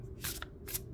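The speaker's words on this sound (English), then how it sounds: "And I just shuffled those 2 cards in." Large cat-themed tarot cards riffled in two quick bursts of papery shuffling, close and fairly loud, within about a second.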